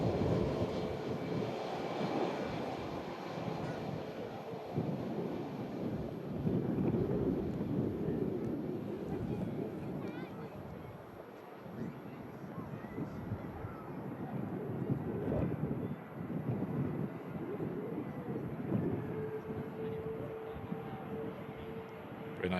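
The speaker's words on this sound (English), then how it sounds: "Very nicely done on the touchdown there from the EasyJet A320" EasyJet Airbus A320 landing at Manchester Airport in a strong crosswind, a distant, fluctuating engine rumble mixed with wind buffeting on the microphone, surging and fading in waves, with some speech present.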